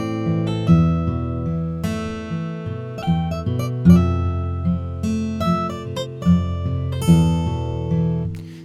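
A clean, unprocessed acoustic guitar plays a plucked chord pattern, notes ringing clearly with no added effects, close and moderately loud.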